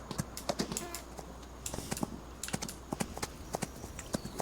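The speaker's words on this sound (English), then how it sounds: "let's go ahead and get him in a full gallop here" A horse in Farming Simulator 25 gallops in a quick, steady rhythm of sharp hoofbeats, close and continuous, with a faint hum beneath.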